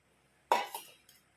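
Whisk clinking against a bowl while mixing pancake batter, one sharp clink followed by a couple of lighter taps in a quiet kitchen.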